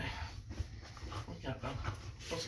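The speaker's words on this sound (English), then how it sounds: "My dog likes to help me. Tries to play the whole time." A playful dog pants close by with quick, breathy rhythmic huffs and small whimpers, fairly quiet against a low background rumble.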